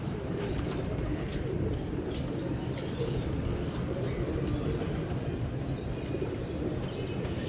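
Pigeons cooing in a loft, soft repeated low coos over a steady background murmur, fairly faint and continuous.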